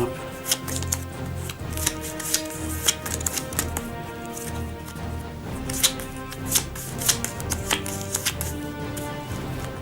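Cards for the DungeonQuest board game being mixed, a steady run of papery shuffling clicks and slides with sharp ticks, close and continuous under a faint musical background, no talk.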